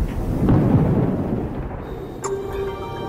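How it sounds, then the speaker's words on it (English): Thunder reverberates around an airport at night, a long deep rumble rolling continuously with a brief sharper crack partway through, heard alone with no talk. "As soon as it gets dark, thunder begins to reverberate around the airport."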